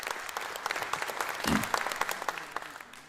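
Audience applause at a Folsom Lake College spring convocation: a steady wash of many hands clapping in a hall, moderately loud, with a brief low thump midway and no speech over it.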